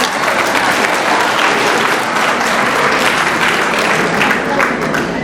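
Loud, sustained applause from a crowd at a Wembezi community meeting with the mayor, dense continuous clapping with no break.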